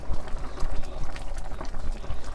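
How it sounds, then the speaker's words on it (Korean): Homemade curry with garlic simmers in a pot while being stirred, giving a loud, close, thick bubbling and scraping churn that runs steadily throughout. "이렇게 저어주면 이게 덩어리진 것도 풀어져."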